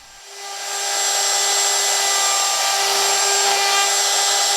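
A Festool Domino joiner cutting mortises in wood for a hope chest, a steady high machine whine that swells in after a moment and holds evenly, no voices.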